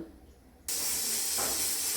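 A pressure cooker on a stove, cooking a pea and egg ghugni, abruptly bursts into a loud, steady hissing whistle of escaping steam after a quiet moment, close and continuous.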